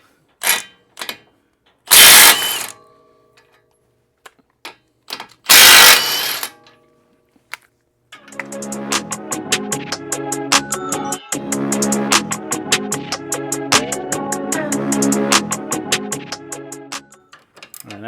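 Ratchet wrench cranking off two 24 mm bolts on a 2025 Ford Explorer ST suspension: a few short clicks and bursts early, then a long, steady, close run of rapid ratcheting clicks.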